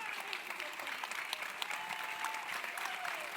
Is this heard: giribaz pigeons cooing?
no